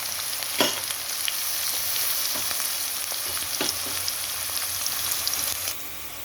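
Food fries in a pan with a steady close sizzle, broken by several scraping strokes of a spatula as it is stirred, and the hiss eases slightly near the end.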